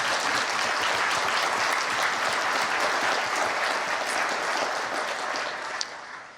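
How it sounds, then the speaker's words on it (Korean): Warm, sustained applause fills the hall at the National Prayer Breakfast as a large audience claps steadily and loudly, tapering slightly just before the end. "이분들께 다시 뜨거운 박수 한번 부탁드립니다."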